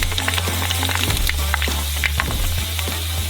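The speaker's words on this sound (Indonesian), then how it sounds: "Ini akan mulai menggoreng dan muncul seperti popcorn." Dried boiled soba frying in oil heated above 200 degrees, a loud, close, continuous sizzle dense with rapid crackling pops like popcorn, with no talking.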